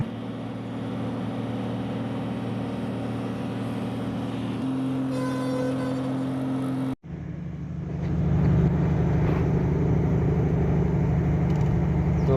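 A UD truck engine idles with a steady low drone, then revs up after a brief break, settling into a louder, rougher roar while air pressure builds; no speech is heard.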